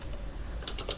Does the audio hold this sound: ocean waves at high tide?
no